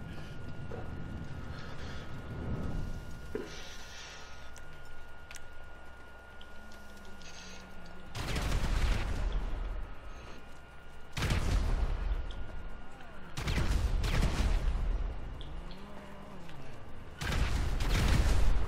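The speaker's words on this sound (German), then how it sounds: "hier explodiert gerade alles" Explosions and gunfire in the video game GTA V Online: repeated loud broadband blasts burst out at intervals, with rumbling and mechanical clatter between them.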